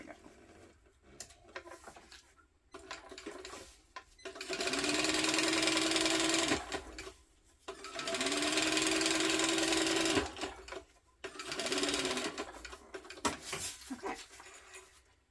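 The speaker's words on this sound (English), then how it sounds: "let's top stitch this down" A domestic sewing machine top stitches a fabric tote bag in three long steady runs, each a loud whirring hum with faint ticking between bursts, close by with no talk.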